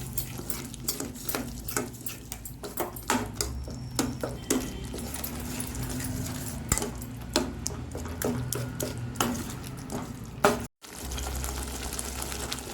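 Unsoured curd is stirred into a paneer gravy in a pan, with repeated clattering spoon scrapes and taps over a low simmering bubble, then a short pause.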